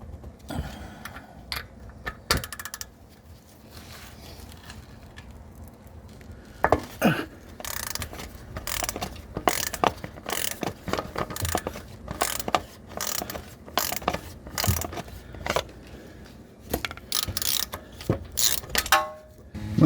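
A socket wrench loosens the oil drain plug on a 2015 Toyota RAV4, with sparse clicks at first, then long runs of rapid ratcheting bursts, close and loud, no talk.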